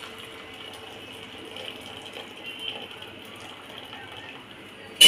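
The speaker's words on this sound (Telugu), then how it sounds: "నెక్స్ట్ మనం ఇవి ఉడికించేసుకున్నాం కదా, బ్రోకలీ అలాగే కాలీఫ్లవర్. ఇవి నీళ్ళను వడగట్టేసుకోవాలి" Water from boiled broccoli and cauliflower drains through a strainer, a steady faint hiss of running liquid with a sharp clatter at the very end.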